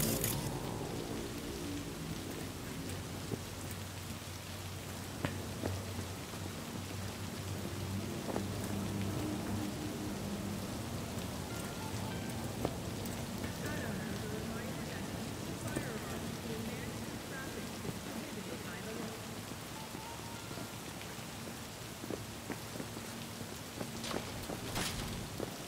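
Rain falling on a rooftop in Cyberpunk 2077: a steady, dense hiss of droplets runs the whole time at moderate level, with scattered sharper ticks and a faint low rumble beneath.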